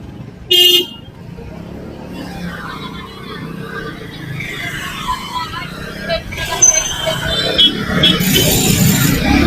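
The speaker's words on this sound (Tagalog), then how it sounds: "Traffic na oh." Busy night street traffic in Bonifacio Global City, with a loud car horn blast near the start followed by a steady roar of engines and road noise that builds toward the end, under a background murmur of voices.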